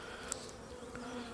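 Honey bees buzz from an opened, crowded hive during a hive split, a faint, soft continuous hum close by with a couple of brief clicks.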